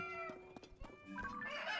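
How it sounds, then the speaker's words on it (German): A chicken clucks in The Legend of Zelda: Tears of the Kingdom, giving several faint, short, squawky calls that rise into a brighter, busier burst at the end. "Und da ist mein Erzfeind. Das Huhn."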